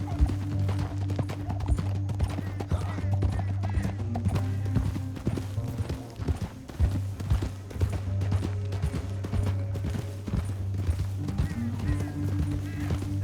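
Horse hooves clip-clop at a run in the Red Dead Redemption 2 video game, a steady rhythmic beat continuing throughout under a sustained low musical drone, with faint voices in places.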